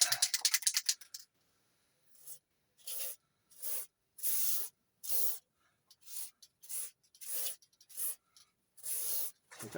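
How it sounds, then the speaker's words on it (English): WD-40 Specialist Anti-Friction Dry PTFE lubricant sprays from an aerosol can onto a VW T25 seat swivel base. A rattle is followed by about nine short, sharp hissing bursts with silent gaps between them, close and clear. "some WD-40 Specialist Anti-Friction Dry PTFE lubricant"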